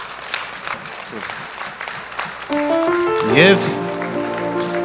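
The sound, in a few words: audience applauding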